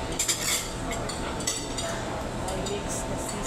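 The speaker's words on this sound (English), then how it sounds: "I mix the sisi in there. Pork sisi." Utensils clink and scrape against a plate or pan while pork sisig is mixed at a restaurant in Butuan. Several light metallic chinks come close together at the start, then a softer stirring rumble continues under a talking voice.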